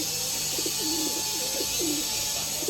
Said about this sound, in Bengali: খুবই সুন্দর পায়রা এইসব পায়রা ছেড়ে দিলে আমি হয়তো এইসব পায়রা জীবনে পাবো না